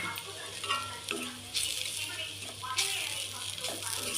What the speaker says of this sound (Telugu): ఇలా ఉల్లిగడ్డ వేగాక కారం వేసుకోవాలండి, 1 స్పూన్ కారం.